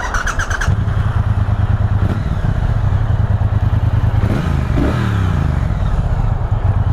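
A 2023 Triumph Bonneville T120 Chrome Edition motorcycle cranks with a brief starter clatter, then settles into a loud, close, deep pulsing idle with a short rev near the end.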